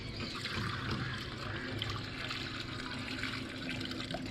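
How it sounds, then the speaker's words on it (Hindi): Water pours steadily into a clay pot, a continuous close splashing and gurgling trickle that keeps going at an even level without any talk. "यहाँ पे मैं पानी डाल देती हूँ।"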